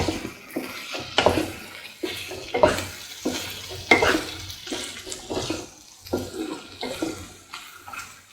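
Chili potato ingredients are tossed and stirred in a pan, making uneven scraping and wet shuffling strokes with a soft sizzle beneath, close and irregular in rhythm.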